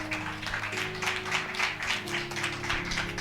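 A church congregation applauding during a service, dense rhythmic clapping from many people with a sustained musical tone underneath.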